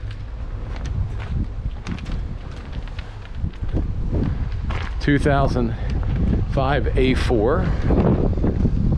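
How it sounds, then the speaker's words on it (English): Gusty wind buffets the microphone at an outdoor junkyard full of parked cars, a steady low roar that rises partway through, with someone talking over it. "A little windy today, girl."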